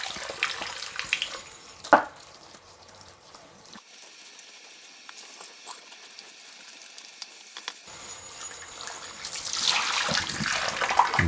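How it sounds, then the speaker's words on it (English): Running tap water splashes over Commodore keycaps as they are rinsed, a hissing, spattering stream that drops away briefly in the middle before returning louder, with a clunk near the start. "keep doing this until the water is clear"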